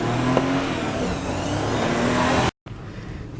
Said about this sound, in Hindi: गाड़ी को करते हैं अभी स्टार्ट